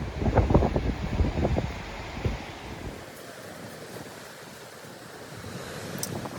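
Waves break and wash with gusty wind noise, louder bursts early on settling into a steady rushing surf.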